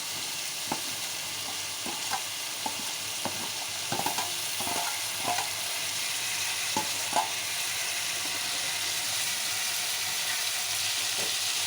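Cut potatoes drop into a pan of frying beans for a potato curry, giving a steady close sizzle with scattered soft knocks and stirring scrapes early on, then an even hiss of frying.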